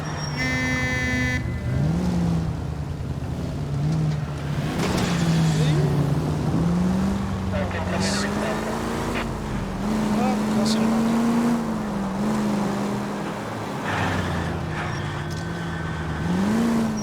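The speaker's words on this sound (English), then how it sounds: "That's the car, Cole. Just pulling out of the drive." A car in LA Noire pulls out of a driveway with a close, steady engine hum that rises and dips as it moves off, while someone talks over it.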